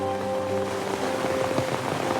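Rain falls steadily on a surface, a dense, even patter with scattered close drops, continuous throughout with no speech and a faint tonal hum underneath.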